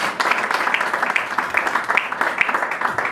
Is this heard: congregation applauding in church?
yes